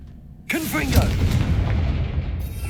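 A Confringo spell explodes in Hogwarts Legacy with a sudden heavy boom and a lingering rumble that fades over the next two seconds, following a shouted incantation.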